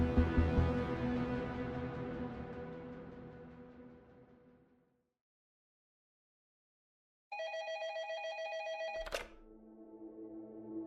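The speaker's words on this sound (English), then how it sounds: "his phone rang" An office desk telephone rings in a long resonant bell ring that fades away, then after a pause it rings again and is cut off by a thunk as the receiver is picked up.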